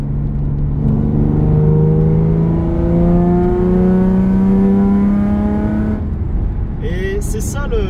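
A Nissan 350Z's naturally aspirated engine revs up steadily from inside the cabin, climbing in pitch over several seconds, loud and close, then easing off.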